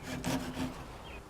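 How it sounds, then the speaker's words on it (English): Handsaw cutting through leftover MDF in the corners of a power tool cart's framework, a short burst of rasping strokes, fairly close and moderately loud, with no talking. "I used a handsaw to remove the residual MDF in the corners."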